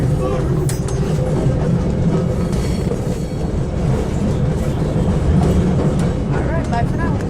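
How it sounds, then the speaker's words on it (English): Trolley ride at Steamtown, a continuous rumbling roll with clickety-clack of wheels on rails, loud and close, with faint voices in the background. "now we are getting off the train. Or, not the train, the trolley."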